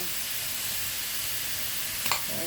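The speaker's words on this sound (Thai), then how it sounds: "ใส่กระดูกหมูอ่อนลงไป" Soft pork bones hit a hot pan for a Thai herbal chu chee curry, giving a constant, even sizzle with a brief metallic clink near the end.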